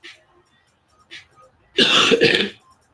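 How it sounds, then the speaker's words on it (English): One loud, close cough, rough and throaty, lasting under a second after a couple of soft breathy sounds. "And hopefully this cough will be gone."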